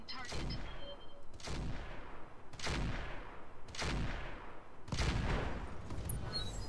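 Mech weapons firing in the BattleTech-based game Roguetech: four heavy booming volleys about a second apart, loud and close, each with a rumbling tail, no talk.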